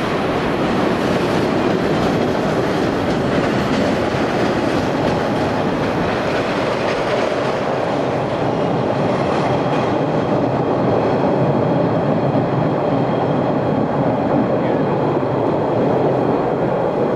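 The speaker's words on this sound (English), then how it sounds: "I guess we get more Amtrak trains." An Amtrak passenger train rolls past close by during rush hour near Boston, a loud continuous rumble with rhythmic wheel clatter and steel rail noise holding steady for the whole stretch.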